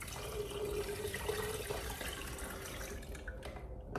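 Tap water pours steadily into a pot of soaking ginger, cinnamon and hawthorn, a continuous close splashing flow lasting throughout and easing toward the end.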